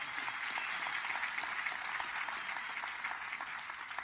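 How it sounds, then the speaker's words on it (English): An audience gives a round of applause, a soft, even wash of many hands clapping heard at a distance, steady with no pauses. "I just want to give you a huge round of applause for that"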